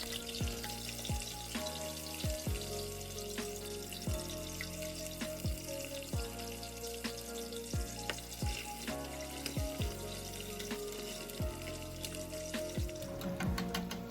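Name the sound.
plantain frying in hot oil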